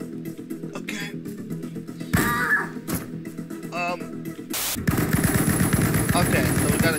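Gunfire rattles in the indie video game Snake Forces: loud bursts of rapid machine-gun shots break out in stretches amid other game noises and end in dense, sustained firing.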